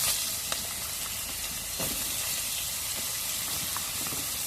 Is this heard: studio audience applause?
no